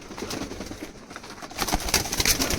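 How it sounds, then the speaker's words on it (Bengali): Pigeons at a loft give short calls and soft coos that grow busier and louder toward the end, over faint background noise. "পায়রা দুটো ছেড়ে দেখো মামা একটু সম্ভব হলে"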